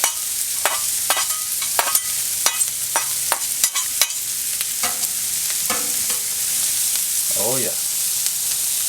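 Bell peppers sizzle in bacon grease for a three-meat chili, a steady hiss broken by repeated scraping stirs of a spoon in the pan, with a short spoken remark partway through.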